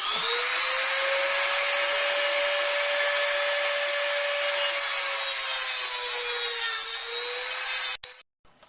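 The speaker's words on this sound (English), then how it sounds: "this Dremel tool with the cutoff wheel, and this being aluminum, I would think it should cut pretty smoothly" A Dremel rotary tool fitted with a cutoff wheel cuts through aluminum, giving a steady, loud, high-pitched whine with a grinding edge that runs continuously for about eight seconds before cutting off abruptly.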